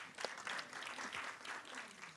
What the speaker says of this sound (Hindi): उसके लिए तो डबल ताली बजाइए।